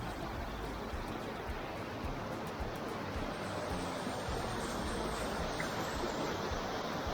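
Water of the Cuyahoga River in Cuyahoga Valley National Park rushes steadily, a dense broadband wash that holds constant and soft throughout, with no voices.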